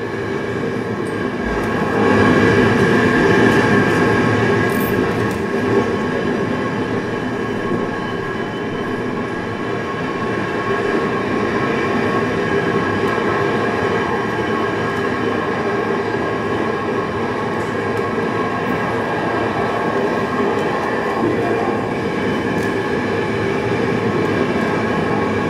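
Steady interior rumble of a passenger train on the Warsaw–Kraków line, with rolling wheel noise and faint rhythmic rail clatter continuing evenly throughout, no voices.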